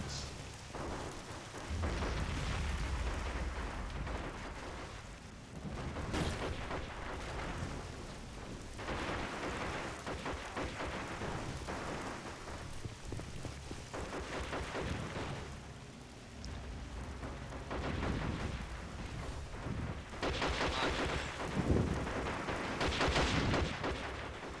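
Tank cannon fire in Men of War: Assault Squad 2 with German Tiger tanks, heard as repeated heavy booms and rumbling blasts over a continuous roar of battle noise, with a few louder bursts spread across the stretch.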